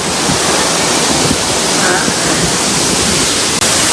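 Steady, loud rush of a waterfall in Dang, Gujarat, filling the whole scene, a continuous roar with no breaks, close by.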